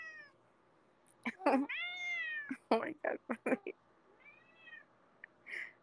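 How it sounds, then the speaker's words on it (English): A cat meows loudly several times in drawn-out, wavering cries, close by, with a person briefly exclaiming between them. "why does your cat cry so damn loud?"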